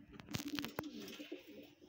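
A breeder pigeon gives soft, low coos, quiet and close, with a few faint clicks and rustles around them.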